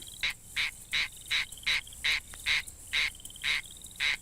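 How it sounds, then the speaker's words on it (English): A tree frog gives a steady series of about ten short, raspy calls, evenly spaced roughly every half second, with a faint insect trill in the background. "This one is called a squirrel tree frog."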